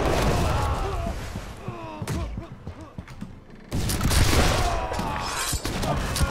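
Booming ship cannon blasts and heavy thuds in the video game Blackwake, a busy, chaotic mix, with a quieter lull before loud firing resumes.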